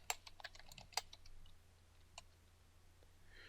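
A computer keyboard produces scattered keystrokes, a few sharp clicks followed by lighter, sparser taps, all faint and close in a quiet room, with no voices.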